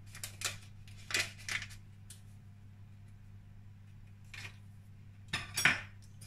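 Utensils clink and scrape against a bowl while cookie dough ingredients are mixed, in several short bursts with pauses, faint over a low steady hum.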